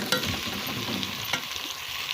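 Potatoes fry and sizzle in a pan for a saalan curry, a steady crackling hiss with light stirring scrapes and no voices.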